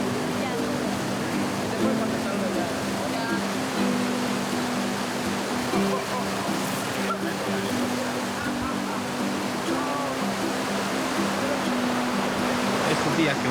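Water flows steadily and loudly in the sacred river used by the Arhuaco people for a cleansing ritual, a dense, unbroken rush that fills the whole stretch with low tonal hum beneath it.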